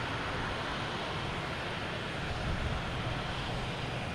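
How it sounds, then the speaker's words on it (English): An Azores Airlines jet in Breathe livery arrives from Ponta Delgada to land at Boston Logan, a steady broad engine roar heard from a distance, even and unbroken, with no talk. "Next to come in is, Aer Airline with the Breathe livery. Coming in from Ponta Delgada."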